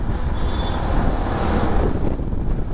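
Steady loud wind roaring over the microphone while riding a motorbike on a hill road, a constant rushing blast with no pauses and no talk.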